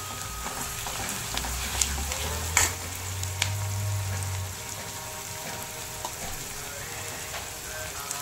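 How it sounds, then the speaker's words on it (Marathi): Green chilli paste and plenty of onion fry in oil for a mung dal vegetable dish, giving a steady close sizzle with a few sharp clicks and pops over a low hum. "ती पण छान तेलामध्ये परतून घ्यायची"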